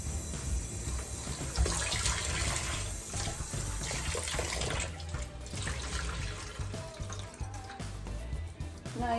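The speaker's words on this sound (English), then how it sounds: "Just rinse it properly, thoroughly" A running tap rinses soap bubbles from a sink during limescale cleaning, the water gushing and splashing steadily for several seconds with faint drips and sloshing as the flow shifts, close and continuous with no talk.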